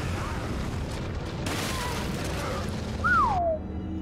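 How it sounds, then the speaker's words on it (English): A single heavy gunshot in Resident Evil 4 lands around three seconds in, a loud boom over steady game ambience, with a descending whistle-like tone following it. "That was a meaty shot."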